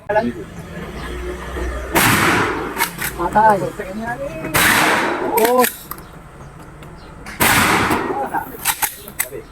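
Three loud gunshots at an outdoor firing range ring out a couple of seconds apart, each with a sharp crack and echo, with voices talking between them.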